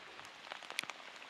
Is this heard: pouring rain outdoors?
yes